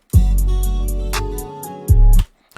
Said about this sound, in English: originally the beat sounds like this